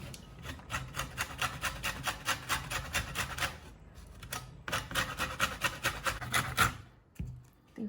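Lemon zest is grated with quick rhythmic rasping strokes close by, repeated in steady bursts with a short pause midway.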